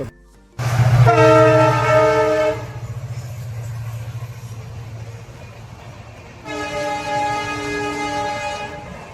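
A Vistadome train sounds two long, loud horn blasts with a pause between them, over a steady low rumble of the train rolling along the tracks.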